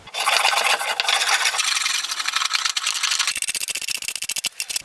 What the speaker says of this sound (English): using the hand plane to skim off the top again